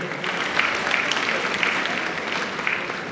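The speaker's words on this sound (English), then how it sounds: "Please can we applaud Her Excellency Princess Adejoke Orelokwe Adefulire." An audience at a Lagos women's event bursts into sustained applause, a dense steady patter of clapping hands that holds evenly throughout without any voices over it.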